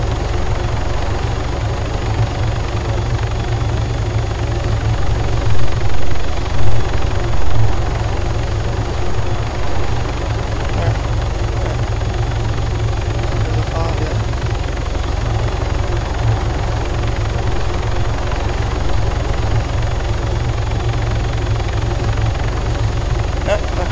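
Helicopter in the video game Arma 3 flying steadily, a loud continuous rotor thrum and engine drone filling the whole stretch with little change, brief swells around the middle.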